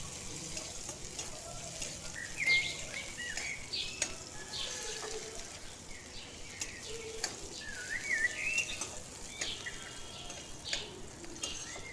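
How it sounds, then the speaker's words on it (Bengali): Chopped onion with a pinch of nigella seeds frying in a pan for a Bengali bean paste, giving a soft steady sizzle with scattered scraping and stirring taps, while birds chirp faintly in the background. "দিয়ে দেবো একটা কুচানো পেঁয়াজ পেঁয়াজটা নাড়াচাড়া করে ভেজে নেবো"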